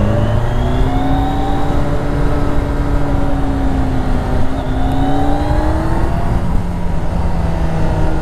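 A 2018 Kawasaki Concours 14 motorcycle held in second gear pulls hard, its loud engine note climbing in steady rising pitch sweeps with wind rush, close and continuous, no voices.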